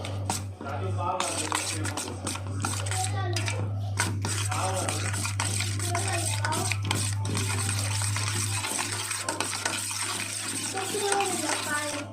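Spoon stirring a creamy pineapple salad seasoned with salt in a bowl, a steady run of soft scraping and clinks over a constant low hum, with someone talking throughout.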